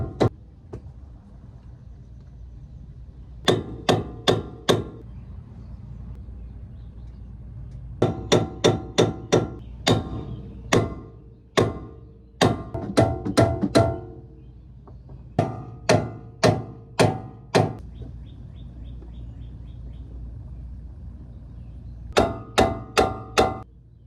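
Sharp metal hammer blows strike the upper control arm of a first-generation Toyota Tundra during a stuck front wheel bearing job, coming in fast bursts of three to eight ringing hits separated by short pauses.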